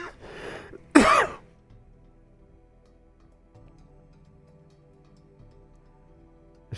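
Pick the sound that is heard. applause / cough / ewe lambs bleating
cough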